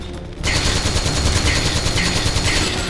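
Rapid automatic gunfire from the Metal Gear Solid 4 video game, a dense, loud, continuous burst that starts abruptly after a brief quiet moment and keeps rattling to the end.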